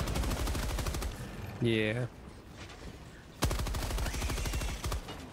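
Helldivers II machine gun firing in short rapid bursts, loud and close, with a player's voice talking over parts of it.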